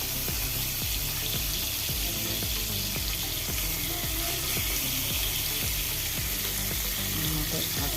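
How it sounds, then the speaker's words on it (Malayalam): Mackerel pieces frying in hot oil in a home kitchen, a steady loud sizzle and bubbling crackle that runs without pause, with faint clinks of a utensil underneath. "ബാക്കി വന്നതും കൂടി നമുക്ക് പൊരിച്ചെടുക്കാം"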